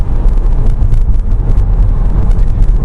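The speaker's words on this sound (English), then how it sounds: "We'll just get out on the freeway a little bit, and so you can see what it's like to go at full speed on the road." A Chevy Volt cruising at full speed on the freeway, heard from inside as a loud steady roar of road and wind noise with no breaks and no talking.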